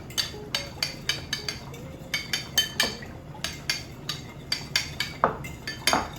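Utensils toss and mix japchae, Korean glass noodles with mixed vegetables, in a bowl. Close, rhythmic clinks and scrapes repeat steadily at a quick pace.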